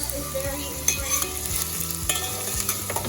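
Vegetables sauteing with salt in a pan for layered mutton biryani, a close, steady sizzle broken by scraping stirs and light clinks of a utensil against the pan.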